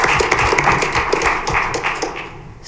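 Applause at a school district board of education meeting, a dense, steady patter of many hands clapping at close range, easing slightly toward the end.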